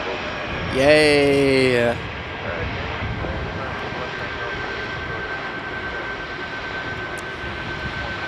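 Aircraft engines spool up at Chicago O'Hare airport as a steady, fairly distant roar with a faint whine that runs through the whole clip, while a voice briefly cheers near the start.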